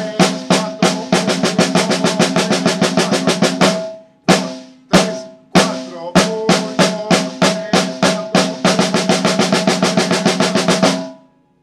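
A bombo drum is played in a fast, steady run of strokes without a metronome, with a brief gap of sparser single hits in the middle before the rapid, even pattern resumes, loud and close.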